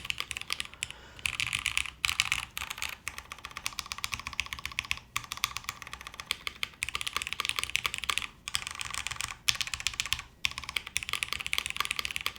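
Continuous close typing on the Alexa mechanical keyboard, which has a deeper sound, with quick runs of clacky keystrokes broken by short pauses and occasional heavier spacebar hits, no one speaking.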